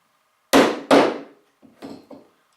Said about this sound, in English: if I hit it